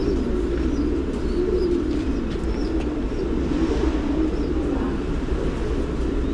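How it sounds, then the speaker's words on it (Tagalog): Pigeons at a breeder's loft housing many pureline varieties coo softly amid a dense, continuous murmur of birds, with occasional faint chirps over a steady low rumble. "Ayan po, halos lahat ng klase ng kalapati na andito na."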